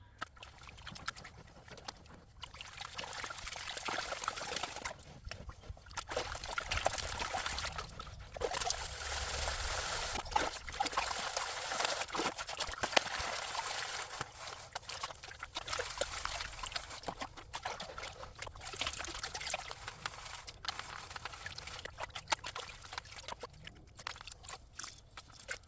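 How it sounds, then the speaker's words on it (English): Water swirls, sloshes and pours from a gold pan as a prospector works it down, a continuous wet rushing with splashy surges, close and moderately loud. "So we're going to speed pan this off, show you a look, come back, and we'll see all the gold shining in the bottom of the pan"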